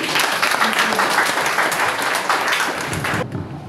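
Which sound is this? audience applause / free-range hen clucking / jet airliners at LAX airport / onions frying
audience applause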